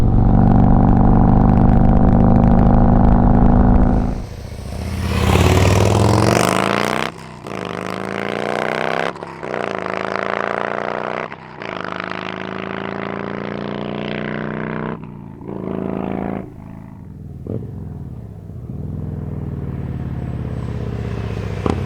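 A Harley motorcycle fitted with a TAB Performance Redline exhaust idles with a deep harmonic rumble, then revs hard and pulls away, working up through several gear shifts with repeated rising roars and brief dips, loud and close throughout.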